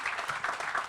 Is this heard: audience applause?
yes